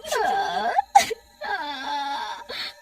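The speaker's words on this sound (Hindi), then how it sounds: "बबलू को अचानक किसी औरत के रोने की आवाज आती है।" A woman's wailing cry in a Hindi horror story, two drawn-out sobbing phrases broken by a sharp gasp, fairly close and clear with no other sound.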